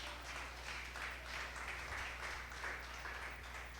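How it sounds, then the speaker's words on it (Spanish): A church congregation gives a sustained round of hand clapping during an evangelical service, a steady dense patter of many hands at moderate distance with no talking over it. "dele ofrenda de palmas al Señor"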